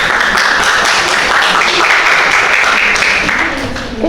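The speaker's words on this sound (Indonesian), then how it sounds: "Tepuk tangan untuk temannya" Students clap for their classmates after a group presentation, a close, loud burst of classroom applause that fades slightly at the end, with a voice faintly audible near the close.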